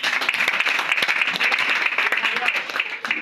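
A church congregation claps and cheers during a worship service, dense rapid applause with voices mixed in, loud and sustained throughout.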